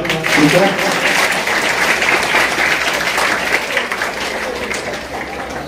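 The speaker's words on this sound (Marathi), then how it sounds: "सगळ्यांनी टाळ्या वाजवावे" Sustained applause from an audience welcoming a guest at a youth group's event, loud and even throughout, with a faint voice briefly at the start.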